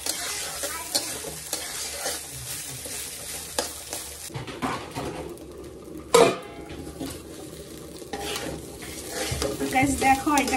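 Food fries steadily in a pan, giving a constant sizzle as a utensil stirs and scrapes against the metal, with a sharp clatter near the middle and no talking.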